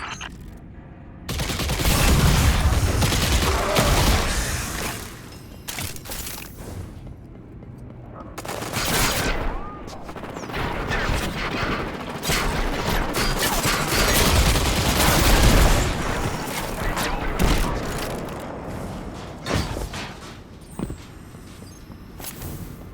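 Sustained bursts of gunfire and heavy flak cannon blasts in a Destiny 2 battle, loud and continuous with repeated booming impacts and rapid shots throughout.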